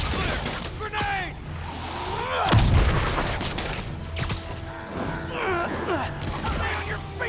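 A grenade in the Marvel's Spider-Man video game goes off with one loud, booming blast midway through, set amid clattering fight noises and scattered shouts.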